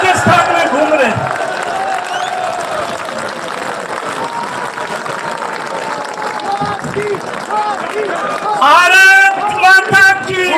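Crowd clapping and cheering at an outdoor political rally in Rajasthan, sustained applause under a loud amplified voice, swelling into a strong burst near the end.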